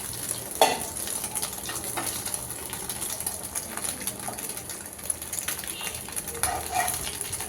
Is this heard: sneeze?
no